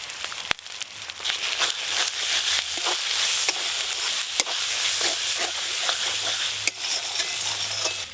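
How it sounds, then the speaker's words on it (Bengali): Tomato, turmeric, salt and dried red chilli paste fry with ginger, garlic and onion in a pan, giving a steady close sizzle broken by spoon scrapes and stirring clatter, with no voices. "সামান্য একটু জল দিয়ে মশলাটা খুব ভালো করে কষে নেব"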